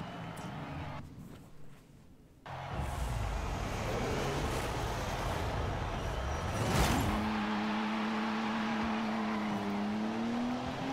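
Forza Horizon 5 car launching from a standstill on dry road with heavy wheel spin off the line, the engine rising steadily in loud sustained pitch that climbs and levels into a smooth high drone after a brief quieter start.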